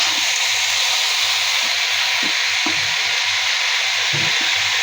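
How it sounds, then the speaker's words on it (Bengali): Bottle gourd greens with bean seeds and potatoes frying in a pan, a steady loud hiss and sizzle throughout, with occasional soft scrapes and stirring knocks of a spatula. "আমি আর কিছু সময় ভেজে নিব এভাবে।"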